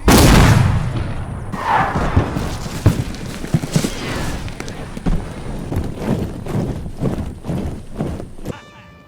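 Cannon fire in a Total War recreation of the 1812 Battle of Borodino: a loud booming opening blast, then a string of scattered thuds and cracks of battle fading across the field.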